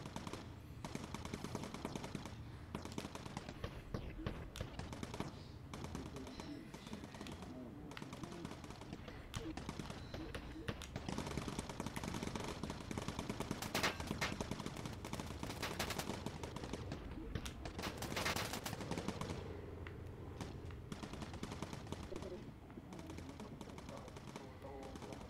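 Bomber gunners in the game Bomber Crew rattle off machine gun fire, fairly faint repeated bursts of rapid shots running through a continuous engine drone, with brief spikes of louder fire scattered across the stretch.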